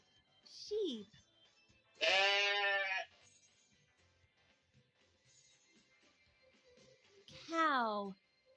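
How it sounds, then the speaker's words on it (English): Sheep bleating in two loud, wavering calls, one long bleat in the middle and another near the end, with a short higher cry at the start, close and clear over near silence. "Sheep."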